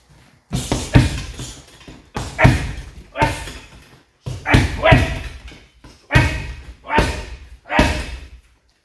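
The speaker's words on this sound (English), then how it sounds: "Let's give it a whack on the bag, give it a review." A worn professional MMA fight glove lands on a heavy bag in eight or so solid, evenly spaced thuds, each impact close and loud with a short rumbling decay.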